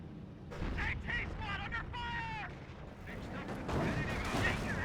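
Gunfire volleys crack through a Company of Heroes battle between Panzer Elite and US forces, with a rifle squad firing on a Panzer amid dense combat noise and game voice effects.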